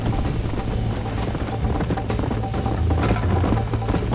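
Rapid galloping hoofbeats of a horse in the video game Red Dead Redemption pound continuously and loudly, with a dense, busy backdrop and no talking.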